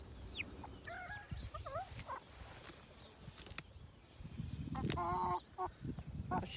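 Hens and a capon rooster cluck and squawk in a garden, with varied calls and a few louder outbursts close by over low background rustle.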